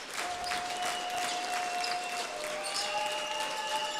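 A crowd at an Icelandic Domino's league basketball game between ÍR and Tindastóll breaks into sustained applause and cheering after a tough shot drops, a steady roar of clapping with a few whistles cutting through.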